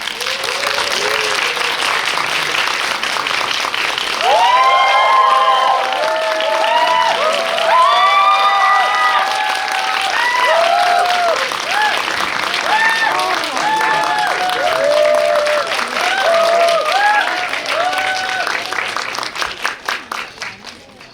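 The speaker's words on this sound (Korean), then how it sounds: "큰 박수로 맞이해 주시죠" An audience at a Korean thriller film screening talk welcomes the director and four actors with loud sustained applause and cheering, dense clapping filling the room, with shouts rising above it before it tapers off.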